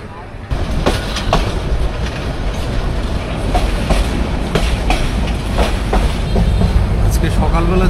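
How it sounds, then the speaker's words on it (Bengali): Tista Express train pulling out of Airport station, loud steady rumble with repeated clickety-clack wheel beats building as it gets moving, heard from inside the carriage. "আমাদের ট্রেন বিমানবন্দর স্টেশন থেকে ছাড়লো"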